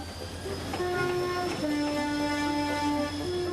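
A diesel locomotive arrives at a UK railway station, its horn sounding in long sustained tones over a steady engine rumble and rolling train noise, loud and close.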